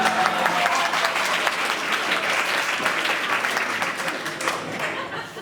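Audience at a wedding celebration at Waterstone Estates breaks into loud, dense applause that holds steady and fades slightly near the end.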